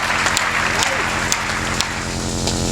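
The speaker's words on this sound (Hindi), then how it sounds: "एक बार तालियां बजा दीजिएगा।" An audience at a Hindi poetry recital claps, a dense rattling applause mixed with hum and crowd noise, fairly loud and steady, with a few sharper claps standing out.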